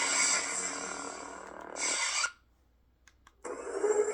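A red-bladed Count Dooku replica lightsaber performs a cross-guard ignition effect, a bright buzzing hum with rising crackle that cuts off abruptly, followed by near silence, a couple of faint clicks, then a renewed hum.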